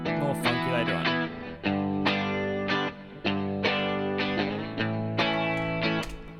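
Chunky electric guitar played through an FG-224 reverb plugin, repeated distorted chord stabs in a steady rhythm with a lush reverb tail, loud and up close with no voices.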